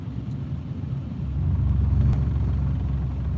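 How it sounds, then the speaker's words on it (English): A car driving in snow with its tyres on the center line rumble strip, a low droning rumble that swells louder halfway through and stays heavy, steady and close. "that's the center line that you hear that I'm riding on that's making that terrible sound"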